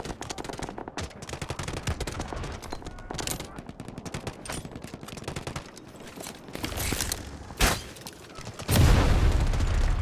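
Sustained gunfire in the video game Delta Force, dense rapid automatic bursts and single shots near and far, with a heavier booming blast toward the end, under brief game voice lines.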